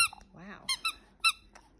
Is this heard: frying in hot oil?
no